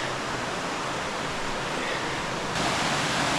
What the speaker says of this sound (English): So that's that waterfall you saw on the other side.